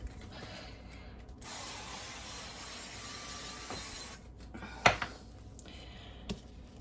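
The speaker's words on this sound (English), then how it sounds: "And I'm going to go ahead and spray my baking dish here." A steady hiss of cooking spray onto a baking dish lasts about three seconds, followed by a couple of sharp clicks and knocks nearby.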